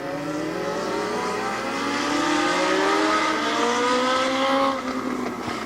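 Race cars at a raceway take the green flag for a short heat race, engines roaring loudly and rising in pitch together as the pack accelerates, several layered engine tones climbing over a few seconds with no talk.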